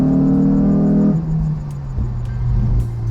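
Honda S2000 four-cylinder engine with six-speed gearbox revving near 5,000 rpm, a loud steady intake drone that drops in pitch partway through as the car shifts, then holds a lower even tone, close and continuous with no talk.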